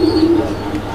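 A fancy Bombay pigeon coos with a low, steady, throaty note close by, a single short call.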